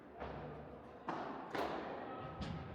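A padel ball thuds against the glass wall of a court during a training session, several dull knocks at irregular intervals, fairly faint with some background noise.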